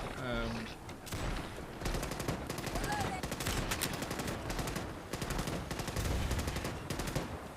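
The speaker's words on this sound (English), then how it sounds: "Someone's firing a Marita." A Marita gun in the Starship Troopers: Extermination video game fires sustained bursts of rapid automatic gunfire, dense and continuous with short breaks, alongside other game effects and a voice speaking underneath.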